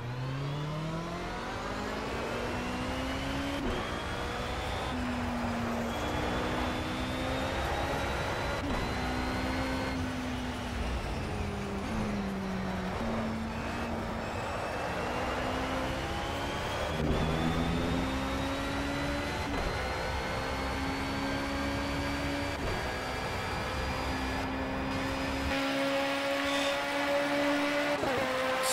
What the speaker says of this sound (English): That's the sound of crazy car.